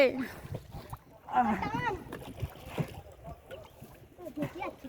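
Low, steady water wash from a small boat moving along, heard close under intermittent talking voices.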